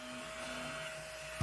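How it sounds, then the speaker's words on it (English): A small vacuum cleaner runs steadily with a loud broadband whoosh and a constant motor whine, unbroken for over a second before a brief knock at the end. "Let me bring my little vacuum cleaner."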